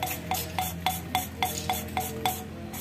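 An engine valve is lapped by hand against its seat, producing a quiet, regular back-and-forth rasping rub, about nine even strokes in quick succession with nothing else heard.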